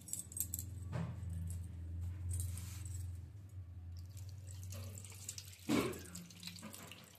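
Water is drained off washed green banana peels and potato pieces, a tap-like pour and splash in a sink with metallic clinks of a vessel, faint and close, rising in a brief louder gush near the end.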